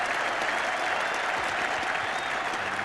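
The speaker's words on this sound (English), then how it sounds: "And not only Northamptonshire supporters will be clapping there" Northamptonshire supporters at the 1981 NatWest Trophy Final cricket match applaud in a dense, steady wash of clapping from a large crowd, unbroken throughout.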